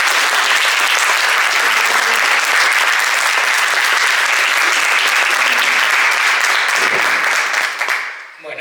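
An audience breaks into strong, loud applause, sustained thick clapping from a crowd that holds steady for about eight seconds before fading out.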